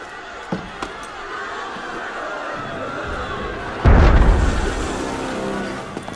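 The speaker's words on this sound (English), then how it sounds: "That was cannon fire." A single heavy cannon boom in the game Assassin's Creed Unity breaks through steady crowd and ambient noise, leaving a rumbling tail.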